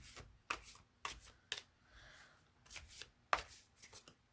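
A deck of tarot cards is shuffled in soft, riffling bursts, each a short papery flutter, repeating about every half second. The sound is close and quiet, with no voices.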